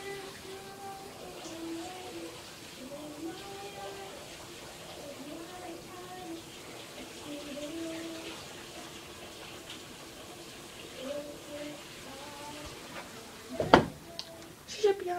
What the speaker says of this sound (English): she's in the shower